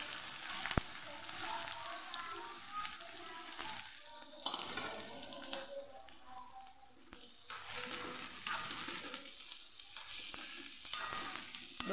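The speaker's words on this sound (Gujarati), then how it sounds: "જે ડુંગળી સુધારેલી એ પહેલાં આપણે સાતળી લેશું" Chopped onion sautéing in hot oil with cumin and asafoetida, a steady close sizzle with scraping stirs; the crackle dips briefly in places and there is no talk.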